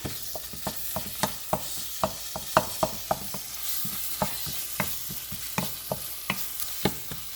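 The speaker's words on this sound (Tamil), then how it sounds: "அதில் நாங்கள் போட்ட மசாலாவில் நல்லா பச்சை வாசம் வரத்தக்கனதாக நாங்கள் திருப்பி விட்றோம்" A spoon stirs egg masala with cooked-down tomatoes in a frying pan, giving a soft continuous sizzle under steady, rhythmic scraping taps against the pan, close up.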